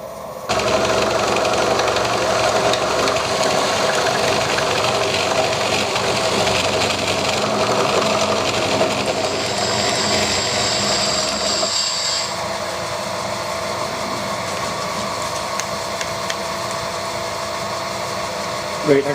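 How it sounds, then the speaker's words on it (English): A lathe cuts a groove in a starter motor part, giving a loud continuous mechanical whir with a steady tonal hum that shifts pitch partway through, followed by a lower, quieter running tone near the end. "I've managed to get it set up just so I can machine a groove in there"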